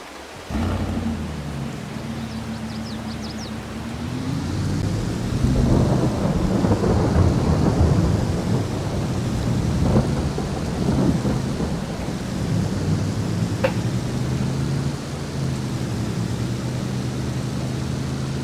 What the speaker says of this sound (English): And of course it starts raining.